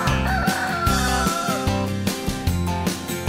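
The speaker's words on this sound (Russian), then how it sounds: "Курочки кудахчут, кут-кудах, кут-кудах, кут-кудах." Hens clucking in an animated children's farm song, repeated close cackles mixed with bright music and a steady beat.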